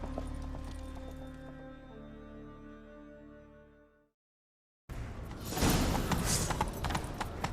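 Horse hooves galloping in the video game The Witcher 3, with a steady clip-clop running under game music and effects, then a brief silence before a louder, busier stretch of riding and action.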